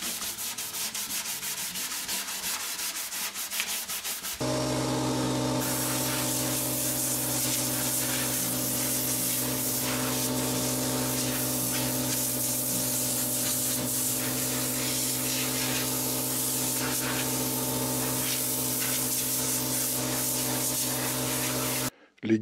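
Sanding wood on a pink ivory guitar, a steady, continuous abrasive rubbing hiss that starts after a few seconds of quieter handling and keeps going, even and uninterrupted, until a sudden stop at the end.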